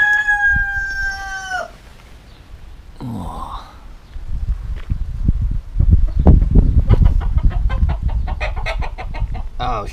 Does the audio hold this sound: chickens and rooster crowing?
yes